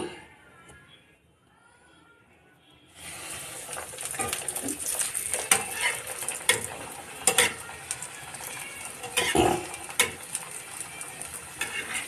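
Carrot puris drop one at a time into hot oil, and after a quiet start a close, lively sizzle begins, crackling and popping with sharp bursts as the frying goes on.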